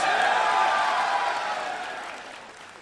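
A standup comedy audience bursts into applause and cheers, a dense wash of clapping that starts loud and gradually fades out.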